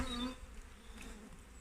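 Honey bees buzz around an open hive during an inspection, a close, steady hum with a brief louder rise near the start.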